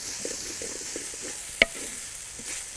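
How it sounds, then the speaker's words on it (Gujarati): Cabbage tossed into frying potatoes in a pan for a Gujarati cabbage-potato curry, stirred with a soft low sizzle, a few light scrapes and one sharp utensil clack near the middle. "તો આપણે આપણી કોબી એડ કરી દઈશું."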